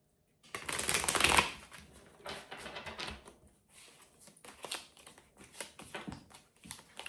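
A tarot card deck is shuffled by hand, a loud riffle burst up front followed by a run of softer, quick card flicks and taps, close and with no voices.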